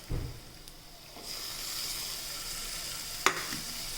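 Tomatoes dropped into a pan of golden fried onions, setting off a steady sizzle that rises after a stirring clatter, with a sharp scrape of a utensil near the end.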